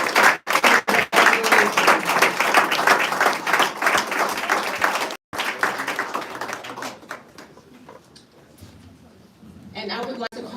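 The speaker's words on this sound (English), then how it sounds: "let's give all of our 2022 inductees another round of applause" An audience at a 2022 dental honor society induction ceremony claps steadily for the new inductees, a dense round of applause that thins out and tapers off, with speech heard over it.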